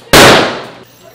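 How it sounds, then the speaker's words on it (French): Bolt-action sniper rifle firing a single shot, a loud sharp crack with a decaying roar trailing off over about a second, close by. "Et bien évidemment, c'est un sniper avec un verrou."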